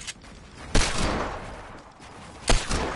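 Bursts of gunfire from a shooting video game, with a loud burst near the start and another near the end over a steady noisy background.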